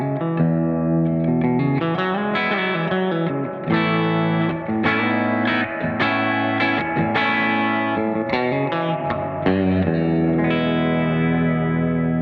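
Electric guitar chords run through a Gamechanger Audio Light Pedal with the dry signal turned down, so a lush, shimmering reverb wash dominates and sustains continuously, loud and alone.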